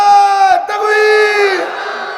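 A crowd at an Islamic waj sermon gathering roars a loud, sustained collective shout in answer to a call for takbir, a massed chorus of voices swelling, dipping briefly, then holding steady before trailing off.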